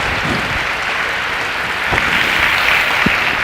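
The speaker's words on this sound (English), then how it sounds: "Give them a round of applause, guys" A live audience claps in a steady round of applause for people heading back to their seats, a dense, even wash of hands sustained for the full few seconds and getting slightly louder toward the end.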